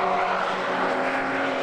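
Porsche 924 race cars roar past on track at Cadwell Park, a steady, loud engine drone with a few tonal whines holding throughout.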